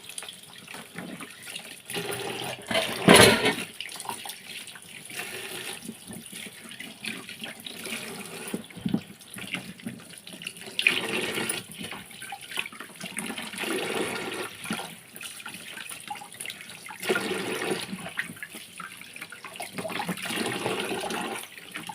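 Ridge gourds are washed under a running kitchen tap: water splashes and gushes in uneven bursts as the vegetables are turned and rinsed, louder surges coming and going over a steady trickle, with no one speaking.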